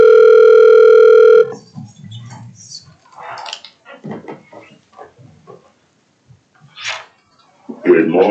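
A steady telephone dial tone sounds for about a second and a half as a phone call is placed, loud and close, then cuts off and is followed by sparse speech and faint noises.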